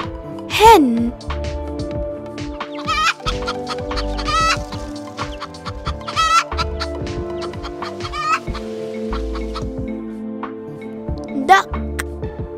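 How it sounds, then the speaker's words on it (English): A hen clucks repeatedly in short, uneven bursts, close and clear, with steady background music underneath. "Hen."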